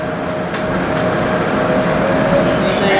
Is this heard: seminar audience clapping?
no